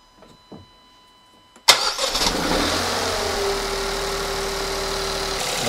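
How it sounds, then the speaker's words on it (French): A car engine cranks and catches with a sudden roar, then settles into a steady idle, after a few faint clicks, with a battery charger connected. "Donc là le moteur vient de démarrer"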